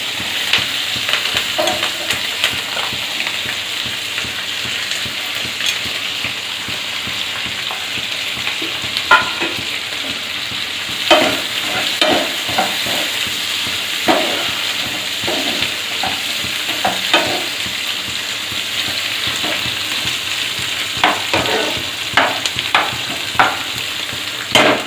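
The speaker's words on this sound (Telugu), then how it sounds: "ఇలా వేగిన తర్వాత ఉల్లిపాయ పచ్చిమిరపకాయ ముక్కలు" Onion and green chilli pieces fry with cashews in a pan for potato kurma, giving a continuous close sizzle broken by frequent stirring scrapes and clinks.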